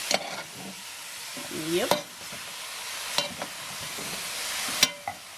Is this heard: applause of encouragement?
no